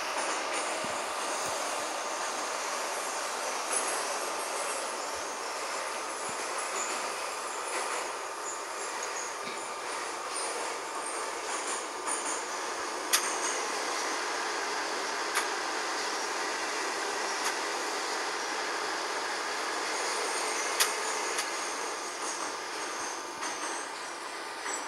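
A Minsk metro 81-717 train runs between stations with a constant loud roar of wheels and motors, occasional sharp clicks and rail joints, and a faint high whine throughout, heard from inside the car.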